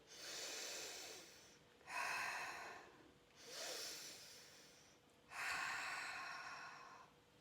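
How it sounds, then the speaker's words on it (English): Slow, audible breathing for a hypopressive low pressure fitness exercise: four long, airy breaths alternating in and out, close and soft with no speech. "so this is the basic breathing."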